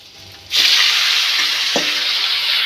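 Chicken dropped into hot oil with two bay leaves, bursting into a loud, sudden sizzle after a half-second of quiet, then a steady close hiss with a couple of clinks from the pan.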